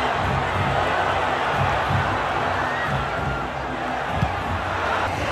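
Botafogo supporters in a packed football stadium as the first half ends, a dense, steady crowd roar with scattered shouts and whistles holding at a constant level throughout.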